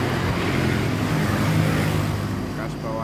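Truck rumbling past on a road, a loud steady low engine drone with traffic noise around it.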